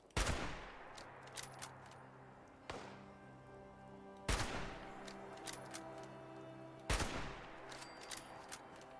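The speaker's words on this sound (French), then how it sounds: "Oui, on me tire dessus." Gunfire in the post-apocalyptic video game Fallout 76: three loud, sharp gunshot bursts about every two to three seconds, each followed by a ringing tail, with lighter crackles and a low hum between them.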